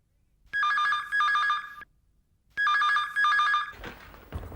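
A telephone bell rings twice in trilling double bursts, loud and close, followed by faint shuffling.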